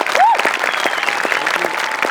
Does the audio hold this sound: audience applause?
yes